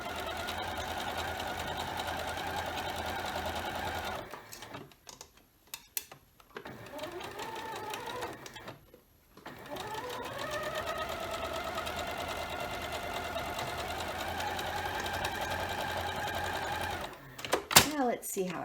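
A sewing machine stitches pieces of a scrappy star quilt block in steady, fast runs, pausing briefly twice before resuming, close and loud.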